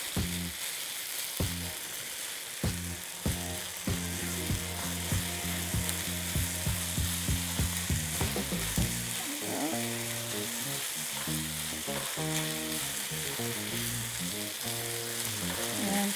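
Chicken pieces for a stir fry sizzle and brown in a hot pan, a continuous loud hiss with rhythmic spatula scrapes and taps that grow busier toward the end, heard up close with no talking.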